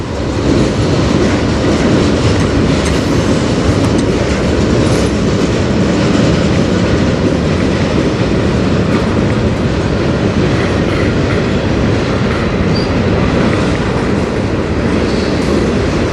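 A freight train passes continuously and loudly on the Strathroy Sub, with rolling wheel noise and clickety-clack from the railcars throughout.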